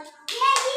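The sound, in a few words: children clapping in a classroom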